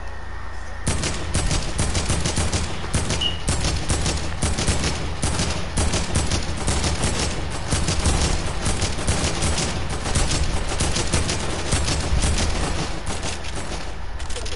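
Sustained bursts of video game gunfire, rapid repeated shots fired at a supply drop, loud and dense throughout with no talk over it.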